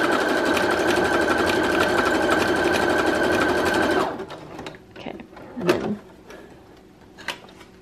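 A Brother Project Runway CE1100PRW sewing machine runs steadily for about four seconds, a loud even whir of the motor and needle stitching a fabric swatch. It then stops, followed by a few quiet clicks and fabric handling.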